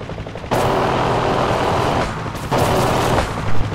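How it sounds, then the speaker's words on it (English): Warning gunfire from a UH-1H Huey helicopter in the DCS flight simulator: two loud, sustained bursts of rapid fire over the constant drone of the helicopter, with no talking. "They are ignoring our warning fire."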